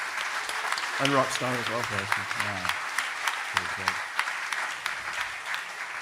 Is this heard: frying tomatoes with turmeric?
no